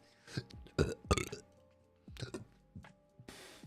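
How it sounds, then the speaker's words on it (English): A man burps close into a microphone, a few short guttural bursts mixed with breathy voice sounds, loud and near. "burped into the mic"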